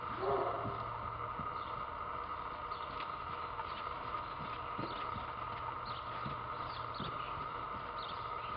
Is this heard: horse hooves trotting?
yes